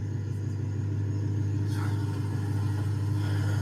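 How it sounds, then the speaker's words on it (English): A car engine idles with a deep, steady low rumble close by, running continuously at an even level with a slight lift partway through, no talk over it. "He's got his car revving."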